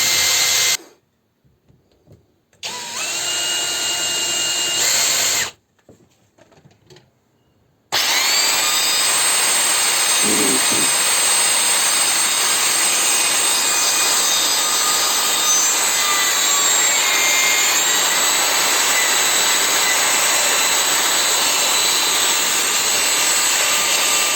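A power drill bores pilot holes through clamped wood, cutting in and out twice with short pauses, then running in a long, loud, steady high-pitched whine.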